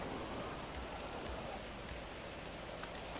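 Steady rain falling in the GTA 5 video game, a dense, even hiss of drops on surfaces that fills the whole stretch at a constant level with no voices.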